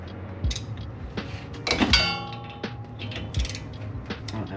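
Hand ratchet loosening 14 mm brake caliper bolts on a 2007 Mitsubishi, heard as irregular clicking and metallic creaks in short bursts, fairly close, with a clank near the middle and no speech.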